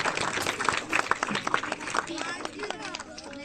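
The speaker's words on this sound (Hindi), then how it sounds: "तो चलिए हम जोर से हमारे अति सम्माननीय डॉक्टर अंतोनिस बाड़ा हमारे बिशप के लिए जोरदार ताली बजाएंगे।" A crowd claps loudly and unevenly for the bishop, Dr. Antonis Bara, at a house blessing ceremony of the Baswar mission, with a fading burst of applause and some background voices.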